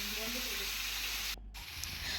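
Low hiss of potatoes frying in oil in a wok, faint and steady, with a brief dropout near the end.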